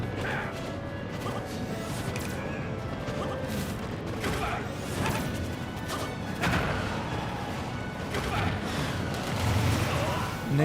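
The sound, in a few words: explosion in a video game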